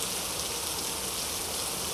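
Heavy rain on Pune streets with water flowing like a stream, a dense, even roar of downpour and rushing runoff that holds steady throughout, with no voices.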